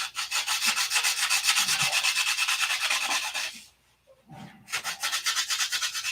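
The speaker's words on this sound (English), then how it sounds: "Trick is with this 80 grit sandpaper is not to go too far." Hand sanding with 80 grit sandpaper gives brisk, rhythmic back-and-forth rasping strokes, close and steady, with a short pause before the strokes resume.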